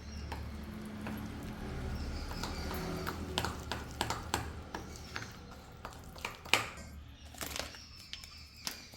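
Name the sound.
sifting maida flour with a sieve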